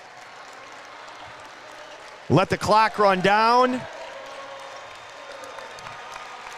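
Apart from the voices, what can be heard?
crowd cheering and applauding at girls basketball state championship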